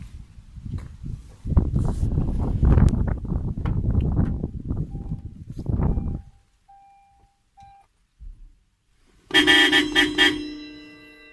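Rustling and handling noise give way to quiet, then a loud aftermarket car horn blares near the end in a single sustained honk that fades out.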